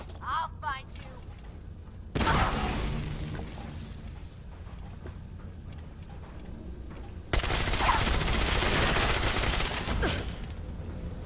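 Bursts of automatic gunfire in Fallout 4, loud sustained fusillades in two long stretches separated by a quieter gap, with someone talking in between.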